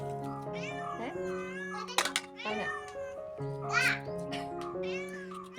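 A cat meows several times, its calls rising and falling, with a person speaking briefly in between.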